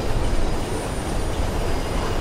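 A subway train rolling into a station in the Mirror's Edge video game, a loud, continuous rumble of wheels on track with a faint high squeal, no voices.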